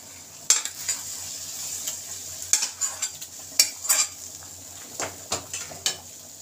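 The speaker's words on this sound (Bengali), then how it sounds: "এবার আমি ডালের মধ্যে মশলাটাকে আস্তে করে ঢেলে দেবো" Fried spice mix goes into a pot of special vegetable dal and gets stirred, giving a soft sizzle under a series of sharp metallic spoon scrapes and clinks against the pan, close and irregular.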